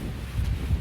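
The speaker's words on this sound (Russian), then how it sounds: "Что делать с этим ветром?" Wind buffets a microphone outdoors in a short, low rumbling gust that swells near the end.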